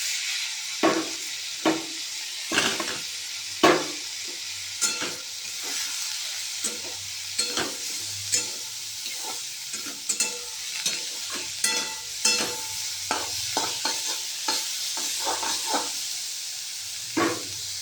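Chopped potato and bottle gourd peel fry with browned onion in a pan, a constant close sizzle punctuated by regular spatula scrapes and knocks, no talking.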